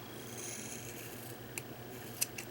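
Scissors snip through the end of a makeup sponge, two or three quick faint clips close by after a soft quiet stretch.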